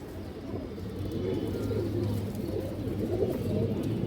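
Red Muslim-tail pigeons with ringed eyes cooing together in a loft, soft low repeated coos forming a steady murmur, fairly faint and without talk.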